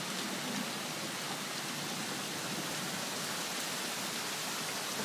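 Steady rain falling in a garden after a hail storm, a continuous, dense hiss of drops without a break, fairly soft and even throughout.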